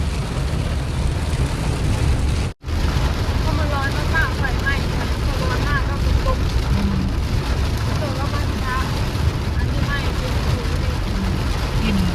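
Steady rain falls outdoors in Huai Kha Khaeng wildlife sanctuary in the dry season, a dense even wash of noise with a brief dropout early on, while someone talks over it.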